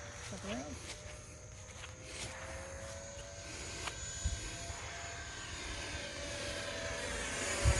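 RC ducted-fan jets, an E-Flite A-10 64mm EDF and a Freewing L-39 80mm, flying outdoors, giving a steady distant whine and rushing drone with a faint rising tone, under light wind and ground noise.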